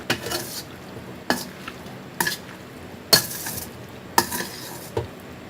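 A spoon scrapes and stirs boiled macaroni with oil in a pan, giving sharp, evenly spaced strokes roughly once a second against a quiet background.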